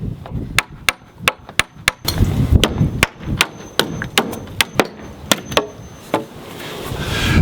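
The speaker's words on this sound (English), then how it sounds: "now I'm gonna start tacking in this bottom part." A hammer drives nails to tack boards onto a chicken coop, about twenty sharp, close knocks in quick irregular bursts, some rapid taps and some heavier blows, with a bit of rustling between strikes.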